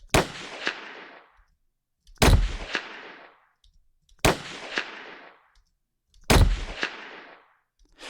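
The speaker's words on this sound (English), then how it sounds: "I'm going to play the gunshot alone, and then I'll play it with all the layers together" Four heavy layered gunshot sound effects with added metal layers, spaced about two seconds apart, each a sharp loud blast with a metallic ring and a decaying tail, no voices.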